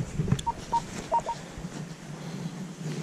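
A metal detector sounds a few short, faint electronic beeps over a quiet outdoor background while detecting over a coin, the tones brief and separated, with a light clunk near the start.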